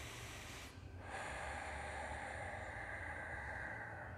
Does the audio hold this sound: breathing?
yes